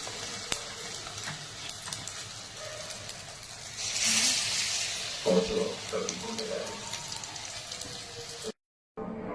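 Eggs dipped in batter fry in hot oil in a pan with a steady soft sizzle and crackle, swelling briefly as they hit the oil, fairly quiet and close, with a short silent gap near the end.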